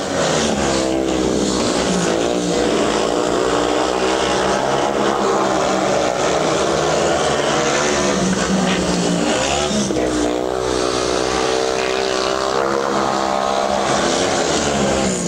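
Speedway motorcycles race round a dusty track at a 1999 Scottish Open Championship meeting, their engines a continuous loud, dense roar that swells and fades slightly as the bikes sweep past, with no clear talk over it.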